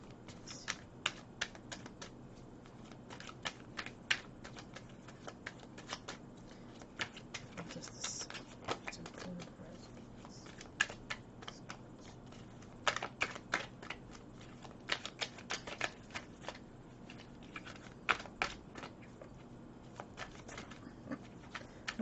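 Tarot cards are shuffled and handled close by, giving a long series of quick crisp riffling clicks and flutters in irregular bursts against a quiet room.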